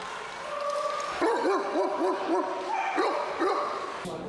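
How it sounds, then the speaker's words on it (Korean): A crowd of dogs gathered at a Mongolian dog show, including Bankhar herding dogs, yip and bark in quick repeated bursts, several overlapping voices mid-distance with a continuous noisy backdrop. "다른 개들이 아무리 짖어대도"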